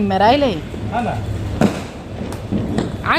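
Diwali firecrackers go off during Lakshmi Puja night celebrations, with a couple of sharp cracks bursting between people's voices.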